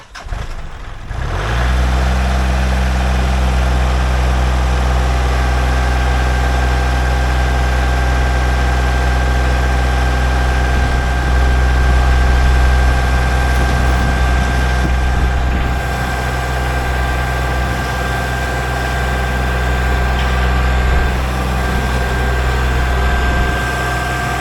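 A tractor engine idles steadily for the whole stretch after a brief start, a loud, constant low rumble with a droning mechanical tone, close by and without pause.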